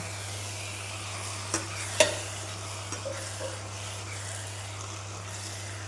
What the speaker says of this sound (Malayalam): എന്നിട്ട് നന്നായിട്ടൊന്ന് വഴറ്റി കൊടുക്കാം.